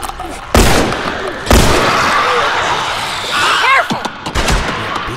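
Loud, close gunshots from The Last of Us video game, a few separate heavy bangs with echoing tails, followed by rattling impacts and crashing noise during a combat scene against infected.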